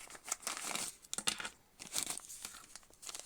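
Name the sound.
handling a crinkly Ziploc bag of ear tips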